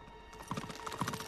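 Rapid clip-clop of hooves with a horse's whinny in the video game Uncharted 3: Drake's Deception, over a busy game soundtrack, fairly faint.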